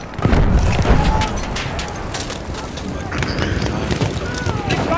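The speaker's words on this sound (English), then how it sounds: "I'm shooting torpedoes," Torpedoes launched and bursting in an online multiplayer video game, a loud low boom followed by a sustained rumbling roar, with players talking over it.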